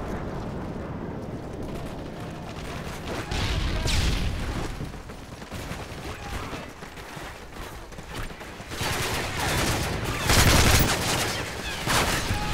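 Near-constant gunfire in the video game Call of Duty: Modern Warfare 3 multiplayer, with rattling bursts, heavy blasts and explosive peaks layered over one another, while someone talks faintly underneath.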